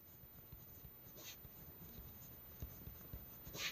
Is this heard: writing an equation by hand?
yes